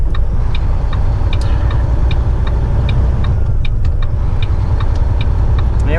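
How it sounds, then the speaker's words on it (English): Hazard flashers tick at a steady, even pace inside a heavy-haul truck cab on a cold road, each click crisp against the loud, continuous drone of the engine and road noise. "So I'm gonna put on my flashes on for these crazy race drivers."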